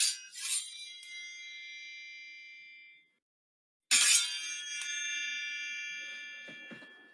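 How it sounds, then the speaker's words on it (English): A Foley sword made of very thin, bent metal is struck twice, each hit ringing out bright and clangy with a long, shimmering decay, the second strike followed by a few lighter clinks. "It makes this wonderful long ringing sound."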